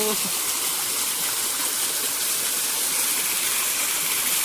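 Water pours steadily down Ayyanar waterfall, a dense, unbroken hiss and rush that stays loud and close throughout, with no talk over it.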